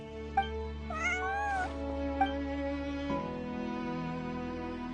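A cat meows a few times in the video game Genshin Impact, with short rising cries near the start over steady game music and ambience.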